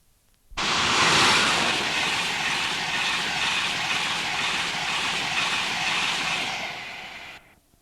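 A Class 91 electric train at Newark station, a loud broad rushing roar that rises sharply, holds steady for several seconds and then cuts off, with no voices.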